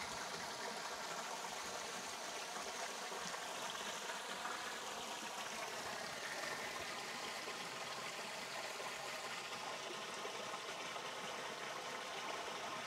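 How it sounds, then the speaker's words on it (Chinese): A mountain stream in a remote valley floods across a footpath, giving a steady, close, full-bodied rush of flowing water that holds an even level throughout with no voices. "已經完全被溪水給淹沒了"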